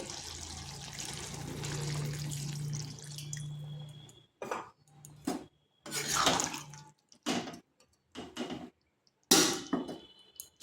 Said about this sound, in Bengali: এরপর সামান্য একটু জল দেব